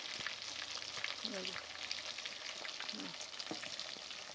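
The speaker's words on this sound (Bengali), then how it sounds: "দেখো চিলি চিকেনের পকোড়াটা ভাজা হচ্ছে" Chili chicken pakoras deep frying in hot oil, a continuous dense bubbling sizzle with occasional soft clinks, heard close with faint background murmur.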